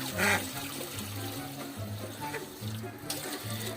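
Water pours steadily into a container of drinking water for ducks, a continuous watery rush with gurgling and dripping, close by, alongside a low rhythmic hum in the background.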